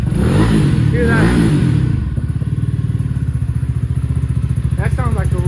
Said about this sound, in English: That sounds like a real sport bike right there.